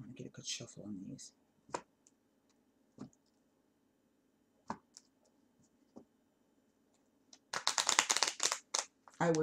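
Quiet scattered clicks and taps give way to a brisk burst of riffling playing cards being shuffled, close up.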